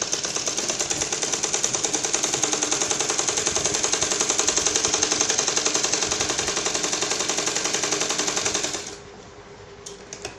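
A sewing machine runs steadily for about nine seconds, stitching the neckline of a garment with a dense, fast mechanical chatter, then stops abruptly, leaving near silence with a couple of faint clicks.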